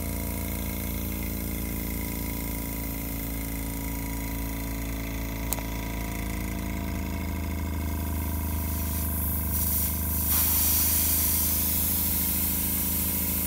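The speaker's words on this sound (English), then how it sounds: "All right, so we're leaking air." Compressed air hisses steadily from a leaking air compressor hookup at the back of an engraving machine, a constant close spray-like rush that brightens and swells near the end.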